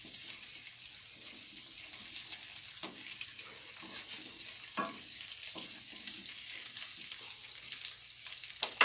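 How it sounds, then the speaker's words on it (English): Large chunks of garlic, ginger and green onion sauté in a pan with a soft, steady sizzle. Occasional clinks and scrapes of stirring sound close by. "they're sauteing up nicely"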